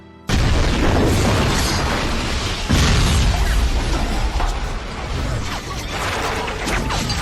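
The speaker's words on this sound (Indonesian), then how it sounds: "blower itu sudah meledak dan menerbangkan banyak puing" An aircraft blower in a film scene explodes with a sudden loud boom, then a dense, sustained roar of crashing and flying debris that surges again midway and rumbles on without letup.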